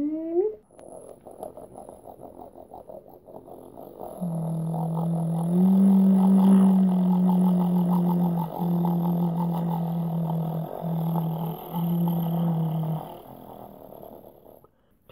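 A voice imitating a tractor engine, a low steady droning rumble that builds and holds for several seconds at close range, with no talk over it.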